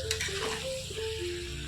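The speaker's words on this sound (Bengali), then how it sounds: "এই দেখুন এবার আমি এতে খুব সামান্য পরিমাণে জল দেবো, যাতে ডাঁটাগুলো সুন্দরভাবে সেদ্ধ হয়ে যায়।" Red amaranth stalks sizzle in a pan as a little water goes in, giving a steady hiss and crackle with some bubbling tones. No one speaks.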